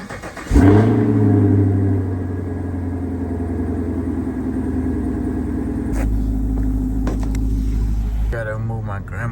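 A car's engine cold-starts during a snowstorm, a sudden loud crank catching into a steady rumbling idle. The idle rises and holds in a rev near the end.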